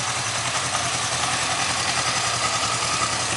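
A Kawasaki 305 motorcycle engine idles steadily, a low even burble with a faint rough texture, held at a constant moderate level throughout.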